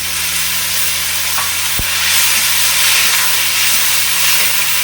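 Onion, garlic paste and tomato paste masala fry in a pan with a steady broadband sizzle, plus a single sharp tap partway through; no one speaks.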